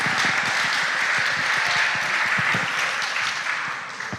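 An audience at a school quiz competition applauds in a steady, dense patter of clapping that carries through and tapers slightly at the end.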